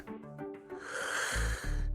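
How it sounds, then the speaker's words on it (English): A Wuthering Waves game character snores: a low, rumbling nasal snort that builds into a loud, raspy breath toward the end, close and alone. "The snoring."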